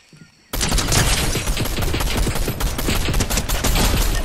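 Rapid bursts of automatic assault rifle fire in Fortnite, loud and close, with dense overlapping shots running continuously after a brief quiet start.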